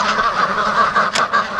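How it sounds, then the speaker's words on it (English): Pekin ducks crowding at a gate call out in a loud, steady chorus of overlapping quacks and honks, close by and continuous, with one brighter burst near the end. "Oh, and the ducks want out really bad."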